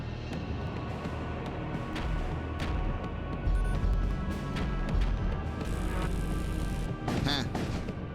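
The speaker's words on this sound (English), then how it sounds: "The pirate ship emerges from behind the asteroid field and opens fire." A pirate ship opens fire in the space combat game Void War, with repeated heavy booms, crashes and weapon impacts layered over a rumbling, busy battle backdrop.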